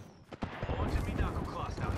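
Gunfire in the battle-royale video game Apex Legends: a dense, continuous rattle of rapid shots and impacts, loud and close, following a couple of sharp initial cracks.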